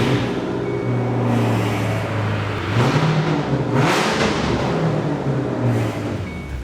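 A 2006 S197 Mustang GT V8 with an SLP catted X-pipe and Loudmouth exhaust rumbles loud and close, with a deep idle and a couple of brief revs swelling over a steady throaty drone.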